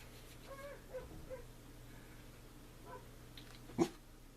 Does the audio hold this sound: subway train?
no